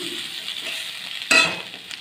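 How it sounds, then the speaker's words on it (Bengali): Cauliflower and potato pieces being stirred and sautéed with spices in a hot pan: a soft, low sizzle, then a sharper scrape-and-hiss of stirring about midway that fades back down. "সবজিগুলোকে কষিয়ে নিই।"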